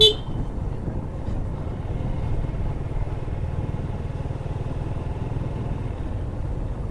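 A motorcycle rides along a scenic road near Sindhuria, Savar, with a steady, low engine drone and road rumble throughout. A brief horn-like toot sounds at the very start.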